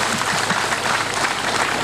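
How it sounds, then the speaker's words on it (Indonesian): Audience applause at a stand-up comedy show, a dense, steady wash of many hands clapping together close to the stage throughout, loud and even with no pauses and no talking heard. "Tepuk tangan dulu."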